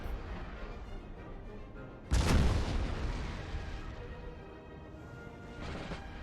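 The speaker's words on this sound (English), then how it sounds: "Cannons make big boom" A single heavy cannon shot in a modded Napoleon Total War battle, one loud deep boom that rolls and decays over a couple of seconds above steady battlefield rumble, with a fainter thud near the end.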